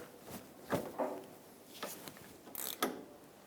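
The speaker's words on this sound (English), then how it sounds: "Now put a ratchet on it or a breaker bar, twist it" A ratchet or breaker bar works a tie rod mounting nut loose on a 2005-2010 Chrysler 300. It gives several close, spaced metallic clicks and creaks of the tool turning, with a sharper burst of clicks near the end.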